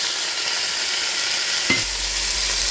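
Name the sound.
sautéing garlic, onion and tomato being stirred in pan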